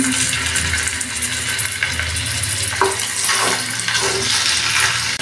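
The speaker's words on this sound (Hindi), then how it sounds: "अब इसमें चिकन के पीस रखूँगी।" Chicken pieces shallow frying in a few spoons of oil in a pan give a continuous loud sizzle and crackle with brief sharper spits.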